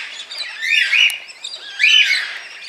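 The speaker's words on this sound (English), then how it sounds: "So let's check out. Black cockatoos." Black cockatoos calling in the early morning, two harsh drawn-out cries close by with a short gap between them and no talk.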